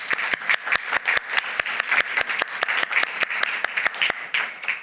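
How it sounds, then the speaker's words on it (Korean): Warm congregational applause in a church service welcoming visiting missionaries, a brisk run of close, loud claps with a few sharp standout hits, steady throughout. "우리 박수 하시겠습니다"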